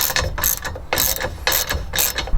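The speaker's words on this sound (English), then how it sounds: "once you get further along, switch to the deep socket. And that will finish it for you." A socket ratchet tightens a nut on a Boonedox Outfitter truck bed kayak rack, giving loud, close bursts of rapid clicking in about five short runs with brief pauses between strokes.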